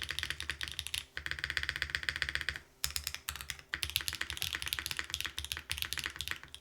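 Rapid, steady typing on a Lumino75 mechanical keyboard with a deep spacebar and brighter alphas, close up. Dense clacking keystrokes run almost continuously with only brief pauses and no talk.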